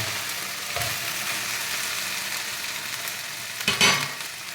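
Okra fries in oil in a pan, a steady soft sizzle close by, broken by a couple of louder scraping stirs near the end.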